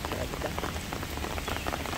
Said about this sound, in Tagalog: Ayan, lumakas na naman ang ulan.